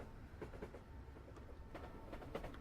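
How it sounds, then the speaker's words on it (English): A train passing in the Train Simulator 2018 game rolls by faintly with a rhythmic clickety-clack of wheels over rail joints for a few seconds. "Ah, hello train. I heard the sound of it passing"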